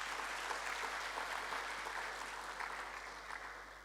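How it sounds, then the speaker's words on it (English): An audience at a national academic conference applauds in a dense, steady wash of clapping that holds for several seconds and then eases off slightly, heard from within the hall. "I think we can give Sahuda-Nihss a big round of applause."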